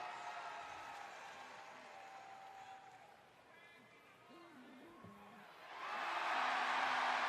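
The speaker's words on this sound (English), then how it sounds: "Crowd goes wild." A wrestling arena crowd during a televised pro wrestling show roars in broad, sustained cheering that dips briefly, then swells louder near the end, with a voice faintly present beneath the noise.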